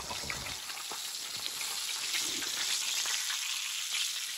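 Battered fish fries on a small butane camp stove outdoors, a steady close hiss of sizzling oil with faint crackles running unbroken throughout.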